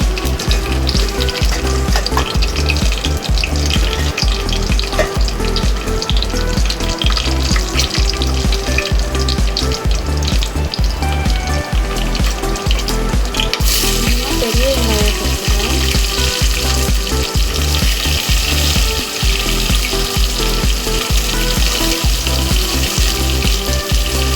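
Fennel seeds and whole chillies fry in hot oil for a vegetable biryani, a loud continuous sizzle and crackle with repeated stirring scrapes throughout, no voices.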